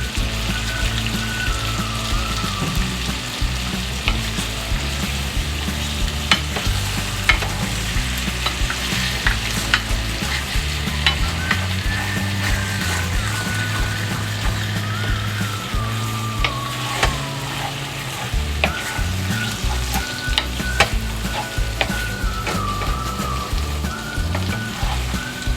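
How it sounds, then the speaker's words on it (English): Chicken taco filling cooking slowly over low heat in a pan, a steady close sizzle and fry with occasional scraping and stirring, and faint music playing throughout. "We're just going to cook this till it get all the way done."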